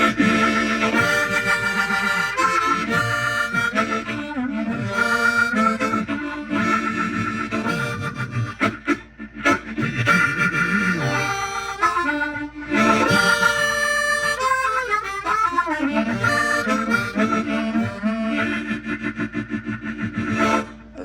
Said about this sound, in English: The next pedal that I use is a Lex Strymon.